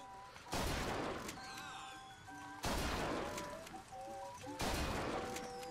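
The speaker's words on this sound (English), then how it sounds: "Powerful air shotgun." Three loud, powerful blasts from an air shotgun in the BioShock Infinite video game, spaced about two seconds apart, each followed by a ringing tail and faint game sounds.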